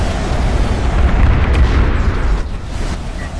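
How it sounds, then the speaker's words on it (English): A missile battery fires during a competitive video game match, a dense, sustained roar of booming blasts that fills the whole stretch at steady loudness, easing slightly near the end. "I heard a missile battery fire"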